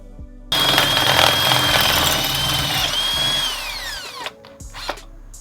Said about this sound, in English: I knew this drill extension would come in handy one day.